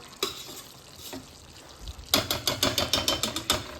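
Ghee rice roasting and frying in a pan gives a soft sizzle under a few scattered clinks, then a rapid run of metal scrapes and taps from stirring, close and moderately loud.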